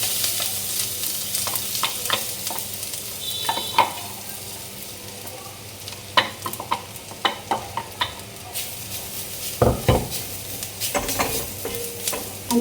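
A chapati roasts on an old iron tawa, giving a low, steady sizzle punctuated by scattered taps and scrapes of a spatula pressing and turning it nearby.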